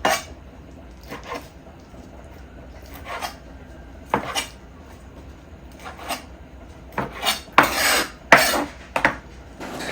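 A knife cuts shrimp into bite-sized pieces for a seafood potato salad, giving a series of sharp, close taps and clinks of the blade on a cutting board, scattered at first and then bunching together toward the end, with no talking.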